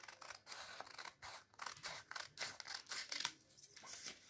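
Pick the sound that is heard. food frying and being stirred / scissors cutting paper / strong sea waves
scissors cutting paper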